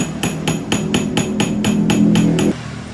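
A hammer strikes a chisel into wood with about ten sharp, evenly spaced knocks over roughly two and a half seconds, loud and close, under a low background hum.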